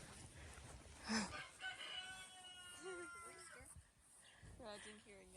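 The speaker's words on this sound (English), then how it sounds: "Let's go check out the chicken coop." Chickens in a backyard chicken coop during a garden walk in DeKalb County, with a rooster crowing and hens clucking at moderate distance while people chat nearby.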